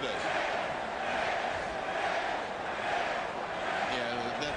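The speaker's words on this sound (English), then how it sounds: "Silliness of the crowd is hollering, fix it." Boxing arena crowd roaring and hollering after a first-round knockout, a dense, steady wash of many voices filling the venue at high volume throughout.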